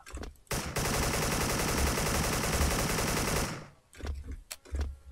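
Sustained automatic fire from an MK rifle in the Special Force online shooter, a loud continuous burst of about three seconds that stops abruptly, followed by scattered fainter shots and clicks.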